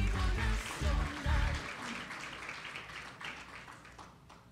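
Applause from the audience at a national ceremony honoring outstanding teachers, a steady wash of clapping that swells in a few louder bursts at first and then tapers to a thinner patter.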